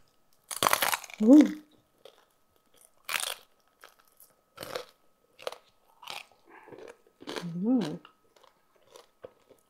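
Crispy lechon kawali, Filipino fried pork belly, bitten and chewed up close: loud crunching bites and a run of crisp chewing bursts with pauses between, broken up by short murmured vocal sounds.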